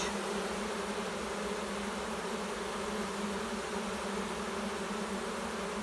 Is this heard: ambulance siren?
no